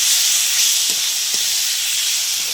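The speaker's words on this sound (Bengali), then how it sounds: "মশলাটা কষিয়ে নেব।" A paste of ginger, garlic, chilli, onion and tomato with salt, turmeric, cumin and coriander powders fries in hot oil, giving a loud, continuous close-up sizzle with faint stirring knocks and no voices.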